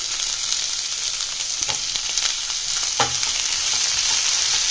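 Onion, ginger, garlic and tomato fry in a pan with a steady, close sizzle for a creamy mushroom gravy, broken by a couple of soft stirring scrapes; no one speaks.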